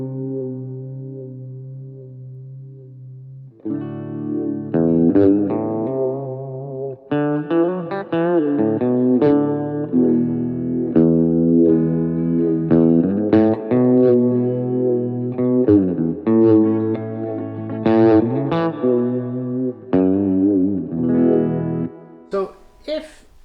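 An electric guitar played through a Max Pedals Phaser Beam phaser pedal set to a slow sweep, with sustained chords and melodic phrases that swirl and shift in tone, loud and continuous with no talking.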